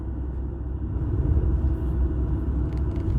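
Steady low engine rumble from a car rolling into a downhill stretch, close and continuous with no voices, the drone holding even throughout.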